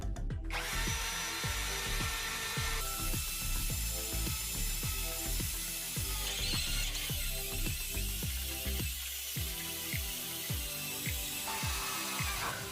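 An Osuka cordless drill bores through steel with a 21 mm hole saw, giving a loud, steady grinding whine with a rapid repeating ratcheting chatter that runs throughout, alone and without speech.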